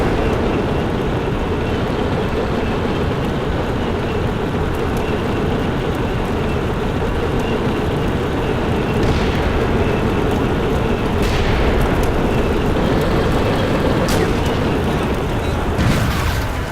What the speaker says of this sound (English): We're gonna ride in with this tank here.